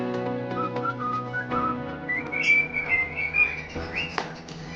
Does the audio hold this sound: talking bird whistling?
yes